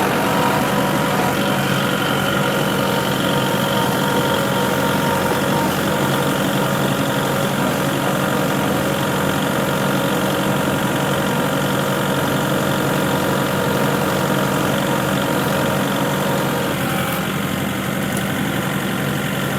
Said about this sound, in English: back onto the tractor